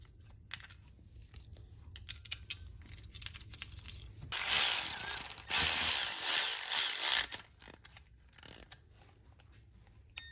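A ratchet wrench snugs up a 10mm bolt during car maintenance, with bursts of rapid metallic clicking between quieter handling noises and no talking.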